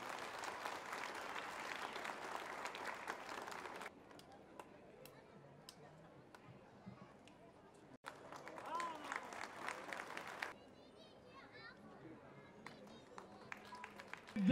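Audience applause at a Sahu community golden jubilee celebration in a Kolkata hall, a dense burst of clapping that fades, then a second swell of clapping, with voices heard between.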